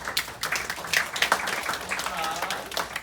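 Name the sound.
audience applause at a workshop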